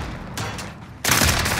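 Dense bursts of gunfire in the shooter Warzone, rapid crackling shots building into a louder, sustained barrage near the end, with no talk over it.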